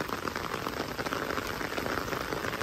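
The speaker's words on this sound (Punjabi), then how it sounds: "ਪੈ ਗਿਆ ਮੀਂਹ" Rain pours down steadily outdoors beside paddy fields, a dense, even hiss of drops striking surfaces all around, close and continuous with no pauses or voices.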